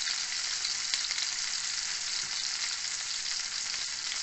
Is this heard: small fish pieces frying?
yes